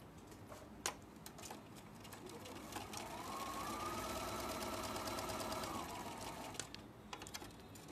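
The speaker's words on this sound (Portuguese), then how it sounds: "Agora vamos costurar os 4 na sequência." Sewing machine stitching four quilt block pieces in sequence for a sawtooth star block, a steady mechanical whir running for about three seconds in the middle between brief handling clicks.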